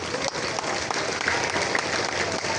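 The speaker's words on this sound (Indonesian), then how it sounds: "mari tepuk tangan untuk kita semuanya" Applause at a Monday morning school flag ceremony in Indonesia, a steady, dense patter of many hands clapping outdoors, moderately loud and continuous.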